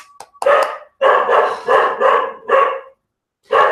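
A dog barks in a burst of loud, close barks with short pauses between them, starting with a whimper, no talking.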